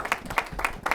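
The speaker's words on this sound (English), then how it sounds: "So please give them a round of applause" Applause at a community grants event, a short stretch of clearly separated hand claps with a quick irregular rhythm, close and moderately loud.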